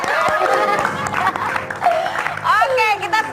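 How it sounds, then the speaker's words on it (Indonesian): Studio audience applause on an Indonesian TV talk show, loud continuous clapping and crowd noise with a host's voice and background music running over it. "Tepuk tangan dulu dong."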